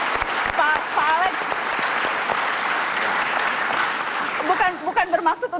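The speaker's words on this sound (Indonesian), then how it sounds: "Oke, kita kasih tepuk tangan dong kalau memang seperti itu." A studio audience breaks into loud, sustained applause on an Indonesian television talk show, a dense wash of clapping that fills the room, with voices speaking over it near the end.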